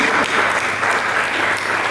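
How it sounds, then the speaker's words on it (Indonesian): Church congregation applauding during a sermon, a continuous wash of many hands clapping at even volume throughout, fairly close and without talk over it. "mari kita berikan tepuk tangan bagi Yesus."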